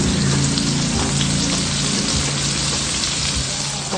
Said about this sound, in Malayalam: ഇതിലേക്ക് 1 സവാള ചെറുതായി കനം കുറച്ച് അരിഞ്ഞിട്ട് നമുക്കിതൊന്ന് ഫ്രൈ ചെയ്ത് കൊടുക്കണം